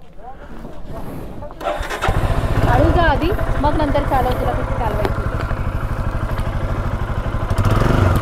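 A Royal Enfield Himalayan motorcycle starts up after a brief crank and settles into a loud, steady thumping idle close by, with people talking over it.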